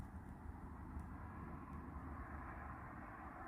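A fixed-wing airplane passes overhead at night, a steady low, distant engine rumble that holds level throughout with no voices.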